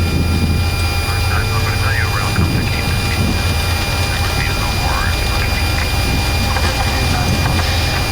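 Airbus A330 jet engines on the takeoff roll, heard from inside the cockpit as a loud, steady, unbroken roar with a deep rumble, while voices speak faintly over it.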